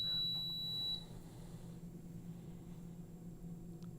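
A Cosori TurboBlaze air fryer gives a single high, thin electronic beep about a second long right after its start button is pressed, followed by a faint, steady hum from the appliance.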